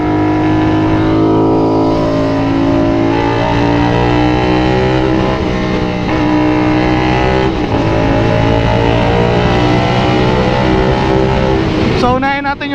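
A loud, deep full-system motorcycle exhaust on a 450SR rumbles steadily at idle and low revs, close up, with a sharp blip near the end.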